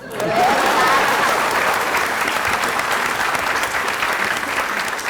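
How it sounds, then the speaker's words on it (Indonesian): Applause from the audience at a 2008 Indonesian energy ministry talk on fuel prices, a strong burst of clapping that peaks early and then tapers slightly while staying steady throughout. "Tepuk tangan boleh."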